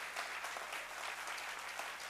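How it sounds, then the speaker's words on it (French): Gala audience applauding together for the finalists and award winners, a steady, dense wash of clapping filling the whole stretch at an even, sustained level with no pauses. "J'aimerais qu'on s'applaudisse une dernière fois."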